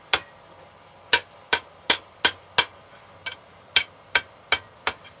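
Hot steel struck on the edge of an anvil during forging, about eleven sharp ringing hammer blows in a loose rhythm, close and loud with quiet gaps between.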